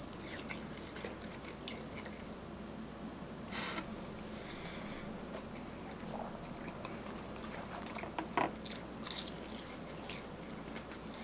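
Close-up chewing of Red Robin garlic parmesan steak fries, steak-cut fries topped with Parmesan and garlic sauce, heard as soft steady mouth sounds with a few crunchy bites near the end and no talking.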